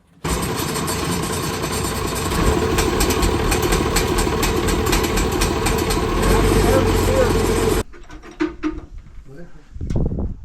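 A Massey Ferguson 1200 tractor engine runs loud and close in a steady, throbbing rumble for about eight seconds, then cuts away to quieter sounds with people talking.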